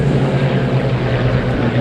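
A Gloster Gladiator biplane passes overhead at an air show, its radial-engine propeller drone steady and loud throughout, with a constant low rumble and no pauses.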